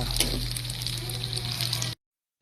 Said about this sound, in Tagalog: Ito guys, prito natin tokwa.